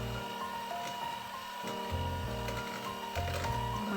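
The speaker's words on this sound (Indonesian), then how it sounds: "Jadi saya aduk lagi dengan mixer." An electric hand mixer beats sagu cheese cookie dough, its steady motor whir holding throughout with mechanical rattling and shifts in pitch as the beaters work through the mix.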